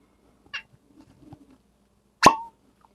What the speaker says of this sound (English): Hopefully we're gonna get a sexy cork pop here.